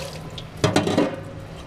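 Fryer oil splashes and drains in short liquid bursts as it is rinsed back down toward the filter, over a steady low mechanical hum.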